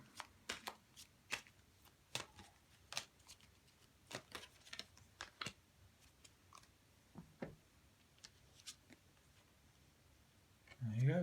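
Animal oracle cards are shuffled by hand in a quiet room, producing scattered soft slaps and riffling flicks at an irregular pace, fairly close but faint.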